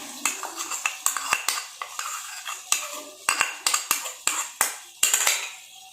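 A spoon whisking yogurt in a bowl for chicken karahi gravy, rapid clinking taps against the bowl in an uneven rhythm, close and clear, with no talking.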